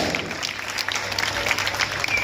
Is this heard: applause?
yes